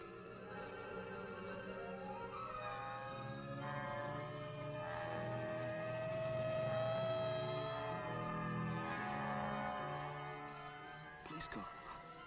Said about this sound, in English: Police car. They must have believed you after all.